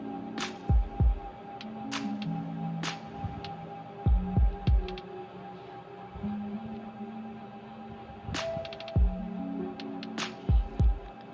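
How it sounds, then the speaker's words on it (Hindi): A sewing machine stitching a back neck strip on a baby's Angrakha frock, with a steady motor hum and short bursts of rapid thumping stitches that start and stop several times. "अब ये एक बैक साइड के नेक की पट्टी पे हम सिलाई लगा रहे हैं"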